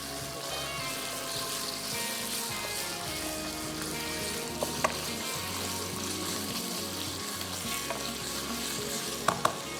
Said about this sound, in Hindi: चिकन को सौते करना है अच्छे से।